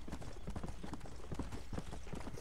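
Horse hooves in Red Dead Redemption: Undead Nightmare clip-clop in a steady, rapid gallop-like rhythm. The dense, close pattern continues evenly throughout with no voices.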